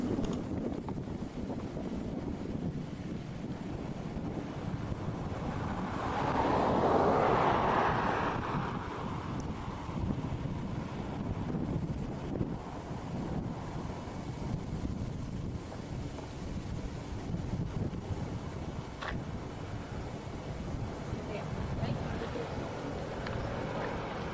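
Strong wind gusting across the open badlands of Badlands National Park in South Dakota, a loud continuous roar buffeting the microphone, swelling in a heavier gust partway through.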